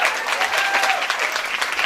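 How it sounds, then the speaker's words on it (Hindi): A crowd claps steadily and enthusiastically, a dense wash of applause that holds at the same level throughout. "हम सभी के लिए एक बार जोरदार ताली होना चाहिए"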